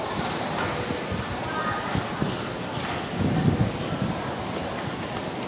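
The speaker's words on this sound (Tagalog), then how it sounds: "Ayan, wala na ulan, mahangin na lang." Gusty wind after a tropical storm, a steady broad rush outdoors near a market, with a low rumble swelling midway and a voice speaking over it.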